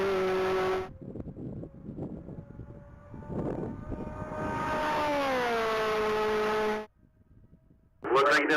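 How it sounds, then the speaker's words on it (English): A 2024 Chevrolet Corvette Z06 at a top-speed mile race event roars past with a rising, sweeping engine tone that holds loud for several seconds before cutting off abruptly, with crowd and announcer chatter beneath. "Jerry Delaportes and his 2024 Chevrolet Corvette Z06 is back on track"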